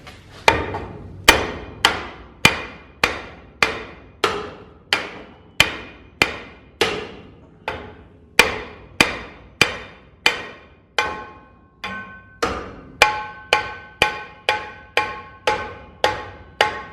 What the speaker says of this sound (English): Need the big hammer.